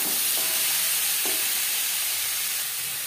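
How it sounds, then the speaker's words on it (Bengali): Beans frying in a pan on a gas stove while being stirred, a steady close sizzling hiss throughout with a couple of brief scraping stir sounds early on. "তিন 4 মিনিট ভেজে নেওয়ার পর দিয়ে দেবো বিনস।"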